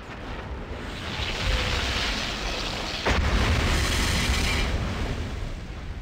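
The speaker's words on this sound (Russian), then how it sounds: "Выбегаем из подземелья и наблюдаем взрыв." Temple self-destruct explosion in the video game Fallout 1: a deep, rolling rumble that swells, then a sharp blast near the middle followed by sustained heavy roaring that slowly fades.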